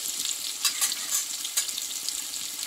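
Pointed gourd (potol) frying in plenty of oil, a steady bright sizzle with a few louder crackling bursts and stirring scrapes, close and continuous, with no voices.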